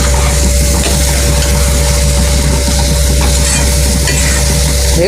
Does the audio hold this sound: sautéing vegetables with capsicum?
yes